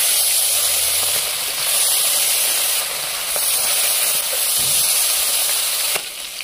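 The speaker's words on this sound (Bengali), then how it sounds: "তেলটা দিয়ে দিচ্ছি। গরম হয়ে গেছে, মাছটা এবার দিয়ে দিচ্ছি।" Loud, continuous sizzling and hissing of small carp frying in hot oil, with small crackles and pops throughout.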